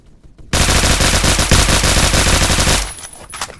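A Honey Badger rifle in a video game fires one loud, sustained automatic burst of rapid shots for over two seconds, then cuts to quieter faint noises.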